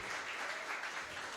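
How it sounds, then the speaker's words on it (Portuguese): Church congregation applauding at a Baptist service, a steady wash of clapping from many hands throughout, fairly faint and distant. "Aplauda ao Senhor."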